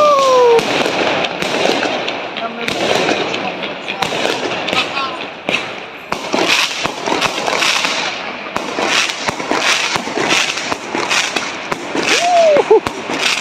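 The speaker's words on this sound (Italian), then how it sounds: "Fuochi!" Fireworks bursting at a Sant'Antonio Abate celebration, a rapid, loud run of cracks and bangs with a few rising whistles, while people exclaim in the background.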